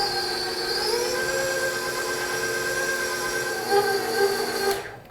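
An electric stand mixer whirs steadily on its low setting, beating flour into chocolate chip cookie dough made with brown butter, with a continuous motor whine and a brief knock near the end.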